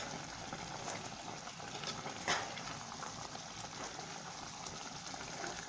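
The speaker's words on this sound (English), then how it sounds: "And I'm going to give this a stir" Groundnut soup with vegetable leaves is stirred in a pot, giving a soft, steady wet swishing and bubbling with one brief louder scrape partway through, heard alone.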